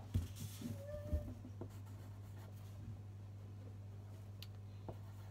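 Pen scratching on paper indoors, faint and close, with a few short strokes against a steady low hum.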